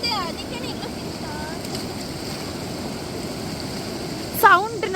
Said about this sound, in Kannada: ಈ ನೀರು ಸೌಂಡ್ ಕೇಳೋದೇ ಒಂಥರ ಖುಷಿ ಅನ್ಸುತ್ತೆ